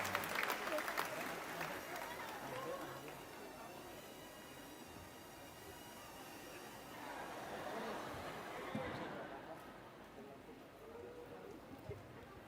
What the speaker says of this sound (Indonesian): Tepuk tangan dulu sekali lagi teman-teman